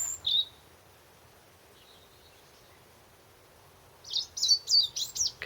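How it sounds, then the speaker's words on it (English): A robin sings in a garden, giving a short high phrase at the start, a faint note in the middle, then a louder burst of rapid chirps near the end, with quiet background between. "Sounds like a robin."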